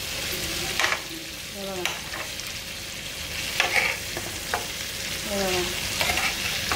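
Green tandoori chicken frying in a pan with a steady close sizzle, broken by scraping and clattering bursts as the pieces are flipped; a voice speaks briefly.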